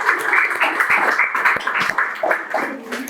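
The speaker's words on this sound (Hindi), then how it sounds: "मैं ताली बजा रहा हूँ आपके लिए" Clapping for singers at an unplugged music session, with a brief run of hand claps, some of them sharp and close, under a steady murmur of voices.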